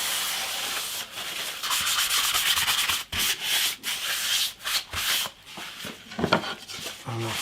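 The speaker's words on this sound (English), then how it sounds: "So I'm just going to wipe off any dust off the top there." Cloth rubbing and wiping across a flame maple electric guitar top, a close, steady scrubbing that breaks into shorter strokes with brief pauses toward the end.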